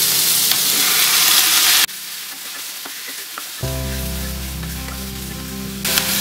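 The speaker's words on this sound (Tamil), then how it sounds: "வெங்காயம் லைட்டா வதங்கினா தக்காளியை" Onion lightly sautéing in a pan for paneer butter masala makes a dense, close sizzle and stirring that thins out midway, then returns with a steady hiss alongside a low hum.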